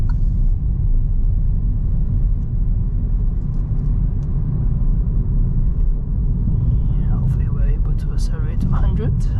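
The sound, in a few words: Kia Stonic 1.4 petrol car accelerating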